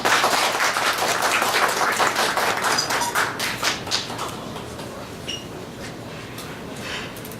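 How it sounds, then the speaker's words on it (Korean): Dense applause from an audience welcoming a speaker at a Sony camcorder event, starting strong and gradually thinning out to scattered claps over several seconds. "큰 박수 부탁드리겠습니다."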